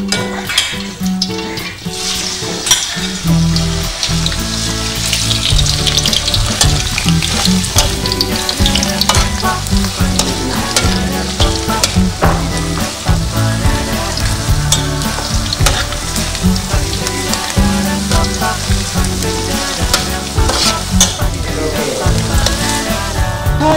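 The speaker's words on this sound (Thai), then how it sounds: "สำหรับวิธีการทอดเห็ดนะคะ เราก็จะใช้ ความร้อนระดับปานกลางนะค ะ" Mushrooms fry in oil over medium heat with a loud, continuous close sizzle and crackle, joined by frequent clinks and scrapes of stirring throughout.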